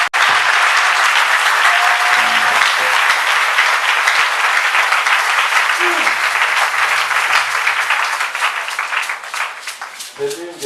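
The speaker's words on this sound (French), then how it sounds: "C'est l'une des rares fois que je vois une acclamation vraiment timide comme ça, sans ovation, sans cri de guerre." A church congregation gives subdued, steady applause with no cheering, a dense, even patter of many hands lasting about ten seconds before thinning out at the end.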